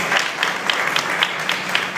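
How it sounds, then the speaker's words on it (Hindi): Rhythmic audience clapping during a church sermon on Paul in Lystra, steady beats of many hands together, moderately loud and continuous for the whole stretch. "तालियां बजाइए।"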